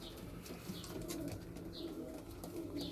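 Tumbler pigeons coo softly in repeated low, throaty calls, faint and close together over a steady background hum with occasional light chirps.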